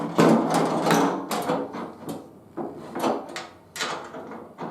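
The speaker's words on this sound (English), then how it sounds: "I gotta move that handle around to get the bolt holes lined up." Tailgate handle on a 1978 Ford F150 pickup being worked back and forth, producing a close series of metallic clunks and rattles in uneven bursts, with short pauses between and no talking.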